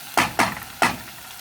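Capsicums stirred with beetroot in a hot pan give three quick, close sizzling scrapes in a short burst, with no talking.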